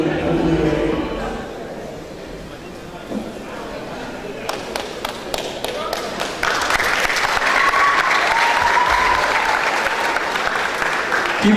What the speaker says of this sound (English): Keep clapping till she gets to the stage.